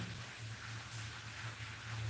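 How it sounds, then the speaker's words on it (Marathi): Steady, soft rain falling, a continuous hiss with a low hum underneath and no talking. "आमच्या इकडं पाऊस पडत आहे वाजायले ना पाऊस"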